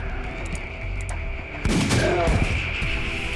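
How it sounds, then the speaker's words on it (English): A gun fires in the zombie survival game Dead Age, a single sharp burst breaking in partway through over a steady game soundtrack and ambience, then ringing out loudly. "you raise your gun to point it at your rotting opponent"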